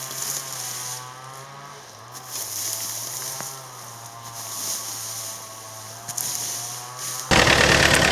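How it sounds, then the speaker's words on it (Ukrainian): A small Yanmar FX435 tractor fitted with a potato digger hums at a steady idle nearby, with a constant low drone and faint rattles, ending in a louder burst of noise. "у нього такий тракторець Янмар FX435"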